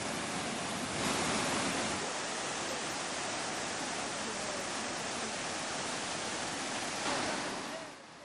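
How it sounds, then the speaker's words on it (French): A steady, full roar of falling water from a waterfall in the Cirque de Consolation, loud and unbroken throughout, with no voices. "Voici maintenant l'une des cascades du cirque de Consolation."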